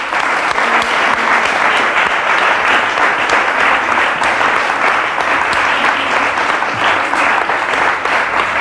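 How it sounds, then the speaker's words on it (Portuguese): A television studio audience applauds actors Isabel Ruth and Rui Gomes with loud, continuous clapping that holds steady throughout. "para quem eu peço um aplauso"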